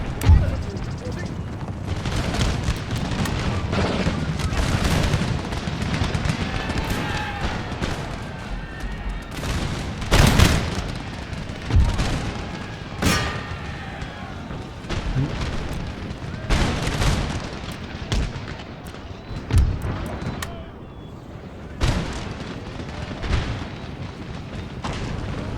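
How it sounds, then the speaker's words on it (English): Artillery fire in Empire: Total War battle, booming reports and scattered volleys recurring throughout under a continuous din of battle and voices talking over it. "is that the artillery?"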